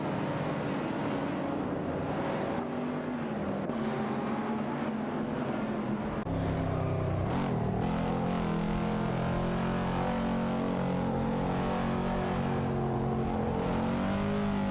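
Race cars in a racing video game, among them a Lotus Elise SE08 and a Vauxhall VX220 Turbo, drone steadily with engines revving and shifting pitch, a continuous loud mix of several cars close together.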